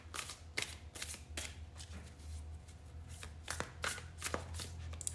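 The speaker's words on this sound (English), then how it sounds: "Let's keep it shuffled and ready" A deck of tarot cards being shuffled by hand, a string of crisp riffling bursts and soft slaps close by, repeating in uneven rhythm over a low steady hum.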